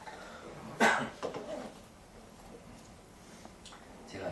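A single short cough stands out near the start, followed by a few faint throat sounds and quiet background.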